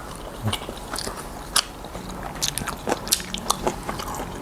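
Crisp bites and wet chewing of steamed vegetables and flowers with fish chili paste, close and intimate, with scattered crunchy snaps and soft squishes at an uneven pace, no talking.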